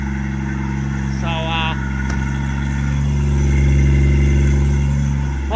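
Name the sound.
Ford FG XR6 Turbo engine starting and running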